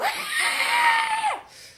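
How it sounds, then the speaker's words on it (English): A single loud, shrill, drawn-out monster scream from a horror film lasts over a second, then drops off sharply into quieter sound. "Which, that is a very loud scream."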